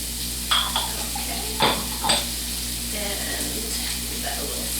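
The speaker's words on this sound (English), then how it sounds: "So we're going to saute the onions up." Onions sauteing in bacon grease in a pan give a steady sizzle, with a few sharp utensil scrapes and clacks against the pan as they are stirred.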